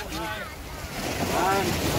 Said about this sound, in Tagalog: papakita ko sa inyo yung dagat